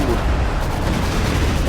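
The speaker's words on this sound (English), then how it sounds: "Stuka firing" A Stuka fires in a World War II strategy video game, a dense, continuous roar of rapid gunfire and blasts that stays loud and steady throughout the short stretch.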